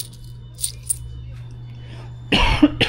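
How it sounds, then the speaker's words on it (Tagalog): A couple of sharp coughs burst out near the end after a quiet stretch with faint clinks, close and loud. "Inuubo ako ah."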